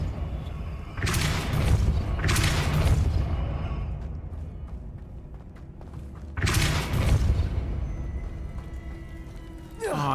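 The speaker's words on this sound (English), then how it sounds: "It raises this platform, but it's dropping fast." A stone platform mechanism grinds upward after the Depulso spell in Hogwarts Legacy, heard as two loud rumbling surges early on and a third around six seconds, with broad low-end weight.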